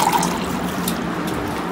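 Drinking water poured into a glass: a loud, continuous close-up splashing stream that fills the whole moment without pause.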